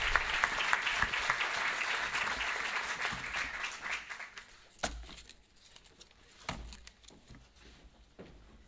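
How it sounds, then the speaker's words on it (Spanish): Warm applause from a ceremony audience honoring teachers and staff at a university medical school anniversary, sustained clapping that thins out after several seconds into scattered claps and room noise. "Brindemos un caluroso aplauso a los docentes y funcionarios homenajeados por sus 20 años de servicio."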